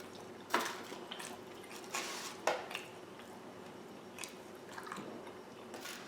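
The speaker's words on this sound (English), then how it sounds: "I can't stop chewing." Close, wet chewing of Papa Murphy's pizza, with a few louder sticky bites and squelches scattered over a quiet room background, no talking.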